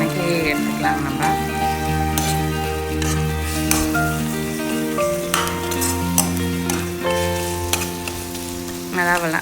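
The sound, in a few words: ginger garlic paste sautéing in a pan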